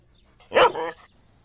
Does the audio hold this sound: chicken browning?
no